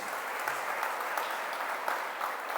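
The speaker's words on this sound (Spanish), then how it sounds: "Denle un aplauso a la palabra de Dios." A church congregation applauding steadily, a dense patter of clapping that holds at one level throughout.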